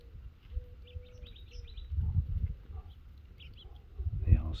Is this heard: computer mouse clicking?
no